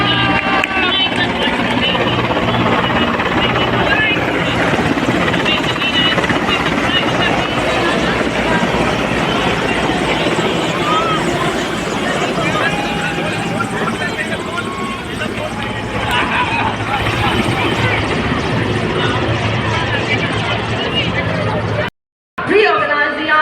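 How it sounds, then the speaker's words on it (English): Helicopter flying over the Republic Day parade on Kartavya Path, its loud, steady rotor roar running throughout amid crowd babble, cutting out abruptly near the end. "हाँ हेलीकॉप्टर आ रहा है।"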